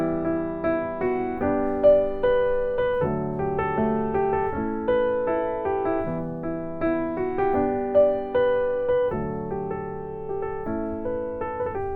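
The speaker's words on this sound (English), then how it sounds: "here's what it would sound like if I just played, as per usual, the chords in the left hand and a melody in the right hand." A solo piano plays a song, with sustained chords in the left hand under a melody in the right, in clear, evenly paced phrases and without any voices.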